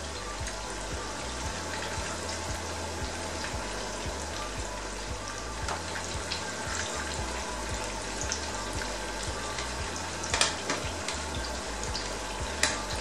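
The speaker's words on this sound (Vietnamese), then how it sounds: "Khi rán chả này các bạn không cần thiết không phải rán quá nhiều dầu các bạn nhé" Squid cakes fry in a pan with only a little oil, giving a steady, close crackling sizzle that holds for the whole stretch, with occasional sharper pops and no voices.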